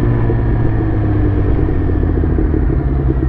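A Suzuki GSX-R motorcycle with a tuned aftermarket exhaust runs close by, giving a loud, steady, deep burbling rumble that holds throughout.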